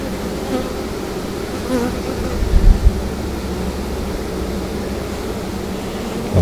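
Honeybees buzz steadily around a newly installed queen cage, a dense close drone with a few louder bumps and wing flurries.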